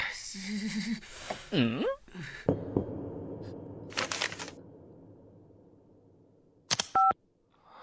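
A short run of electronic telephone keypad dialing tones near the end, a few rapid beeps after a stretch of voices and background noise.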